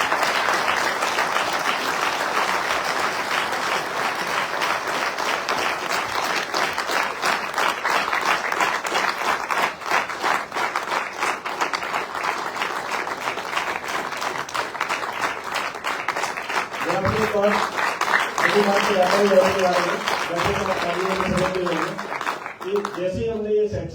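An audience at a direct selling conference applauds to welcome a speaker, loud continuous clapping that holds steady before a voice begins speaking over the fading applause.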